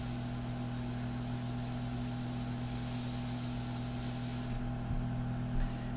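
Airbrush spraying India ink onto a portrait: a steady, close hiss of air and ink that runs without a break, with a low compressor hum beneath it, and it cuts off sharply near the end.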